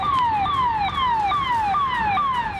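A loud fire engine siren sweeps down in repeated wails about every half second, close and continuous, as fire brigade vehicles reach a blaze at a scrap goods warehouse in Etah, Uttar Pradesh.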